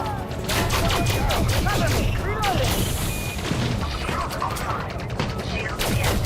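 Rapid gunfire and crashing impacts in the sci-fi shooter Elite Dangerous: Odyssey during an on-foot firefight, loud and continuous with dense bursts and game effects throughout.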